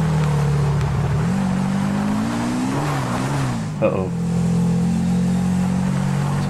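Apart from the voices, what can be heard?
motorbike engine revving in video game GTA V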